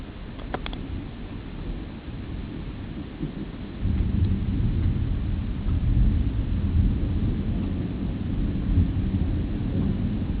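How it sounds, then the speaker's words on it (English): Low, rolling thunder from a summer storm in the early morning hours, a steady deep rumble that swells louder partway through, with rain and no talking. "the farther away a storm gets, the lower the thunder seems to be"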